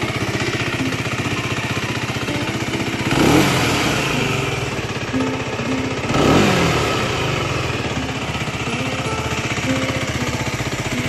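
A Suzuki GSR 125 motorcycle engine runs steadily nearby, a constant mid-pitched drone that swells twice as the engine is revved, with no voices.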